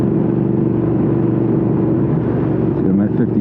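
A Triumph Speed Twin motorcycle holds a steady 61 mph, its engine producing a loud, constant rumble mixed with wind roar, close and unbroken throughout while a rider talks.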